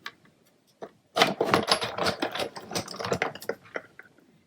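A Big Shot die-cutting machine runs rectangle stitch dies through cardstock, a quiet close sequence of rapid clicking and grinding ratchet-like taps lasting a few seconds after a couple of faint knocks.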